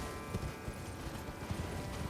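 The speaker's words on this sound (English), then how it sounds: "Can we horse through the tunnel?" A horse gallops in Elden Ring: Shadow of the Erdtree, with steady, rapid hoofbeats thudding close and continuous over faint background ambience.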